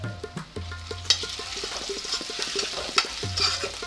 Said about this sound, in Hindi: खुशबू चेक करें आप ये देसी घी के साथ जो फ्राई हो रही है आपकी प्याज और लहसुन अदरक की पेस्ट